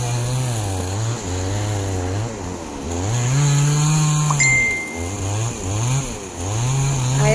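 A small engine-powered machine, likely a chainsaw, runs close by, its pitch rising and falling in repeated revs over a steady drone.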